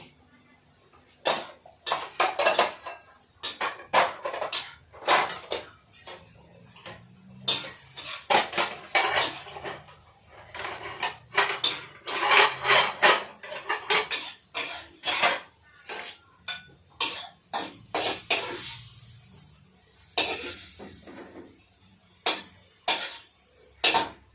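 Cabbage being stir-fried in a pan, with a spatula clanking and scraping against the metal in rapid, irregular bursts of clatter that continue throughout.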